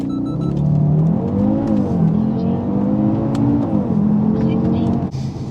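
An Audi RS3 8V2 saloon pulls hard in manual mode uphill, its five-cylinder engine revving up through the gears with clear shift dips, loud from inside the cabin while people talk over it.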